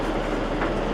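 A brief, steady low rumble of a Tokyo commuter train in motion, close and even in loudness, with no voices.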